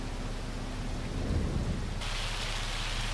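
Heavy rain pours in Farming Simulator 25 as a dense, loud, constant hiss, with a low rolling thunder rumble swelling in the middle and the downpour sharpening into a brighter, harder patter partway through.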